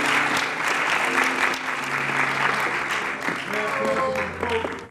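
Sustained applause from an audience at a Douglas County African American history celebration with a proclamation presentation, a broad steady wash of clapping with speech and tonal sounds underneath.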